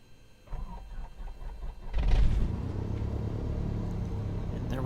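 Piston airplane engine in Microsoft Flight Simulator cranking with a rhythmic starter whir, then catching and settling into a loud steady rumbling idle.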